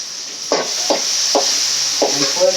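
Drumstick and lentil poriyal sautéing in a pan, with a steady hiss of frying under four or five distinct stirring scrapes spaced roughly half a second apart.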